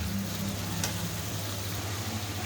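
Bottle gourd and rohu fish curry sizzling steadily in a pan in a village kitchen after a little water goes in, a constant close hiss with a low background hum.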